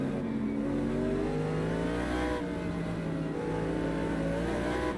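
GT4 race cars in the Automobilista 2 sim racing game, a loud sustained engine drone with shifting revs and gear changes, other cars close by, no talking.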